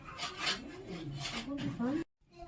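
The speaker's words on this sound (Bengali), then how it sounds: "দেখুন বন্ধুরা, ভাজা গোটা মশলাগুলো আমি গুঁড়ো করে নিয়েছি।" Fried whole spices are ground by hand for samosa filling, producing a close, raspy scraping that rises and falls for about two seconds before cutting off.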